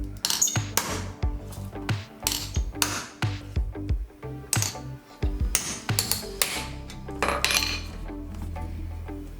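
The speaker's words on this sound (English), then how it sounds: "and then you start smashing with the hammer." Repeated sharp metallic clanks from hammer blows on a knife cracking a laptop power supply casing, irregular and loud, with clinking rattles between strikes and a low hum beneath.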